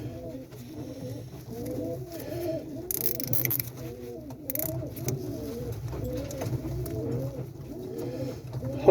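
Young pigeons or doves on a roof cooing in a steady repeating rhythm, soft and close, with a couple of brief louder rustles partway through.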